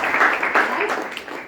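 Audience clapping at an OK Life Care business seminar, a brief burst of applause that stays steady and fairly loud throughout without any talk.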